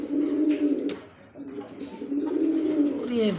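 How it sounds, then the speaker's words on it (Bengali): Local domestic pigeons coo up close in repeated, throaty rolling phrases, one after another, with a faint voice in the background. "ডাকে ভাই দেশি কবুতর ডাকও বেশি"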